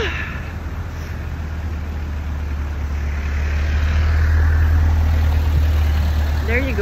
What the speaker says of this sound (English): It's traffic city.